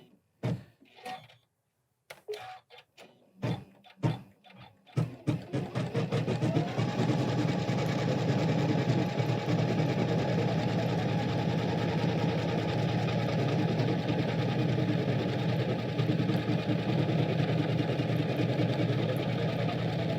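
A Janome Continental M17 embroidery sewing machine clicks a few times as it starts, then settles into a steady, smooth mechanical whir that runs on evenly and close by, with no speech.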